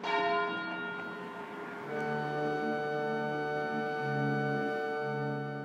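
Church bells of Marlow peal continuously, overlapping tones ringing in a steady cascade, heard from a moderate distance with no voices.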